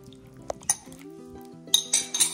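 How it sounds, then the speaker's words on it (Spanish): Utensils clink against a bowl as lentil salad is stirred together with vegetables, a few scattered bright taps and scrapes at close range, with quieter stretches between them and no talking. "A mezclar bien, que se incorpore la verdura con las lentejas."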